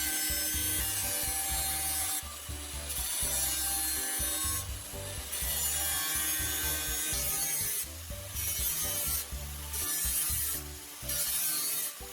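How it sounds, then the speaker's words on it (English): An angle grinder cuts the bottom off a small metal can for a homemade stove. It gives a close, rasping grind in repeated passes broken by brief pauses, over a steady background hum, with no talk. "Using the angle grinder again, I carefully cut off the bottom of the smaller can."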